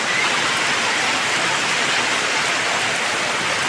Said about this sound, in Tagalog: Ang ulan doon, hindi makaguntat.